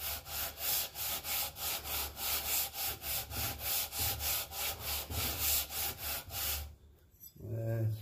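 Rhythmic back-and-forth rubbing of 220-grit sandpaper, about three strokes per second, close and fairly loud, stops abruptly near the end as a voice begins speaking.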